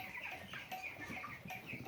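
A crowd of broiler chickens clucks and cheeps continuously inside a pasture-raised brooder house, a dense, steady flock chatter close by with no talking.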